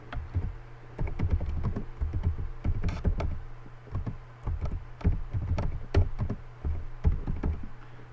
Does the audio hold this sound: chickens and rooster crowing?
no